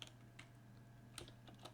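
Keys tapped on a computer keyboard while writing HTML code: a few soft, sparse clicks in quick short clusters, faint and close in a quiet room.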